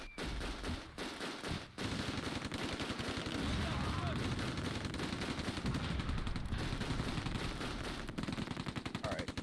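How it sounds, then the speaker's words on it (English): Mortar and small-arms fire in the Close Combat II war game, a dense, nearly continuous barrage of rapid gunshot bursts and blasts that runs for the whole stretch. "you guys just start dropping mortars wherever you can"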